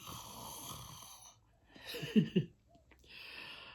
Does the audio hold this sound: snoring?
yes